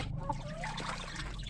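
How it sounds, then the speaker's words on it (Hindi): Water trickles and pours into a chicken cage, a close, continuous liquid splash and dribble lasting a second or two, with no speech over it. "इस केज के अंदर डालते हैं पानी।"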